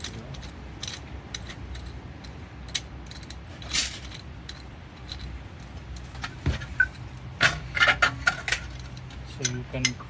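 A clamp is tightened against a brake pad to push back the rear brake caliper piston on a 2001–2007 Dodge Caravan. Irregular close metallic clicks, creaks and scrapes sound over a low background rumble.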